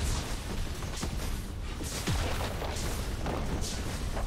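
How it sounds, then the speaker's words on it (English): A turret being destroyed in League of Legends, heard as a sustained run of booming, crackling explosion noise with a few sharp bursts, loud and continuous for several seconds. "Red team's turret has been destroyed."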